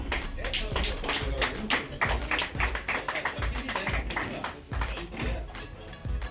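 A crowd of LIC employees at a Constitution Day planning meeting claps for Meena ji, a dense run of hand claps with distinct louder strikes, close and continuous, with voices murmuring underneath.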